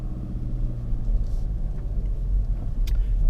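A 2017/2018 Mazda 3 driving at night, its steady low engine and road rumble droning close and continuous from inside the cabin, with no talking.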